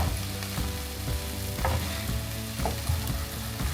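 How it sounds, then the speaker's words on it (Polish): Strips of chicken gizzard sizzle with onion in a pan, a loud, continuous close-up fry with periodic scraping stir strokes and no talking. "Chcę, żeby to wszystko tutaj mi się delikatnie przysmażyło."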